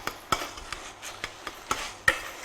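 Mince being stirred with tomato sauce in a frying pan, giving a series of faint, irregular scraping knocks of a utensil against the pan over a low sizzle, with no talk.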